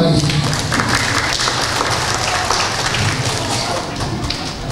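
A church congregation at a Sunday worship service applauds for Jesus, a dense, loud burst of clapping throughout that slowly tapers, with voices mixed in.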